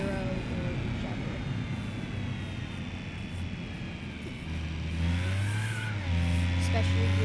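A three-wheeled car in the BeamNG.Drive driving game revs its engine with a steady droning whine that climbs in pitch and grows louder over about seven seconds, with no voices heard.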